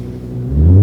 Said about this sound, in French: Je vous propose un petit allumage moteur